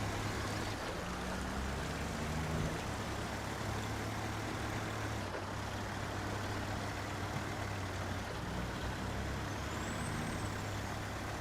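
Kenworth C500 truck in the video game Snowrunner crawling over rocks, with a steady low engine drone and rumble that holds at a constant level throughout, with no talk.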